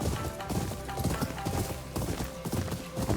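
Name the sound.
horse galloping hooves in video game Ghost of Yōtei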